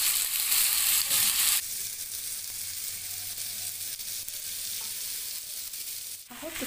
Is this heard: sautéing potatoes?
yes